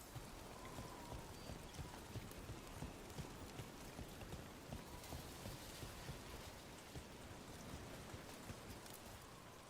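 Rain in the Dragon Age video game falls as a steady dense patter, with constant hiss and drops over the whole stretch and no talk heard.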